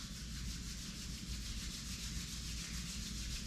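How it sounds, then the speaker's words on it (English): Palms rubbed briskly together during a yoga session, a close, continuous soft swishing friction sound with no voices. "Rub your palms,"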